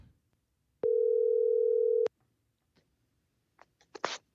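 A telephone dial tone sounds while a phone call is being placed, a steady unbroken tone lasting just over a second that stops abruptly, followed by faint clicks and brief handling rustles.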